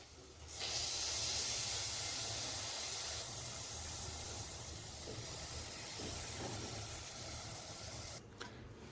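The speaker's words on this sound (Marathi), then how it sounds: "आता जी आपली मोड आलेली मटकी आहे ती आपण ह्या मसाल्यामध्ये छान अशी आता घालून घेऊया" Sprouted moth beans hit hot frying masala in a pan, setting off a loud, steady sizzling hiss that holds for several seconds, eases slightly partway through and then cuts out briefly near the end.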